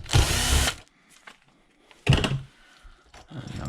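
Power tool gun spinning out M5 socket cap bolts on a Taylor 35 RC model engine: two short close whirring bursts separated by quiet handling clicks and small taps.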